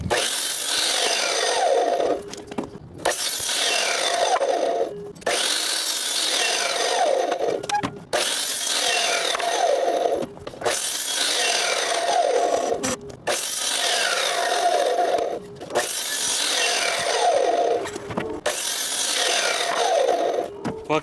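Wooden 12-foot deck boards being cut with a saw for a lower deck, in several repeated passes of about two seconds each, separated by brief pauses, loud and close with no talking.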